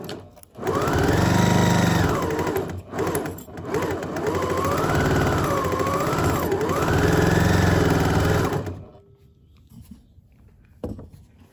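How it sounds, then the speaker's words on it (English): A sewing machine back stitches a fabric mask, with loud close bursts of rapid needle whirring whose pitch rises and falls across several seconds, followed by a quiet stop and a few small handling clicks. "Back stitch at the front."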